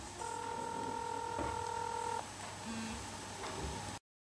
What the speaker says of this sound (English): This is the stock Android dialer with which you can dial any number